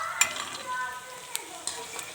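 Chicken pakoras deep frying in hot oil for iftar, a steady soft sizzle with a few sharp clicks and pops, fairly quiet and close, no talk.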